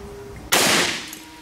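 A single sharp, loud gunshot from a .38 revolver strikes a brick, a sudden crack that decays over about half a second.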